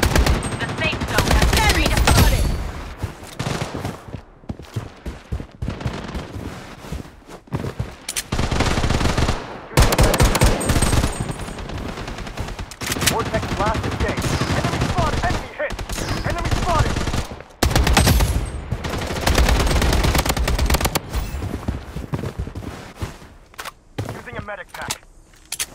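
Rapid automatic gunfire from the shooter game Blood Strike rattles in loud, dense bursts broken by short pauses, with game announcer voices and callouts over the shooting.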